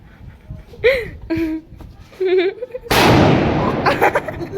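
Large Lakshmi bomb firecrackers burst during a Gurpurab celebration, a loud sharp blast near three seconds followed by a long roaring decay, with voices and laughter before it.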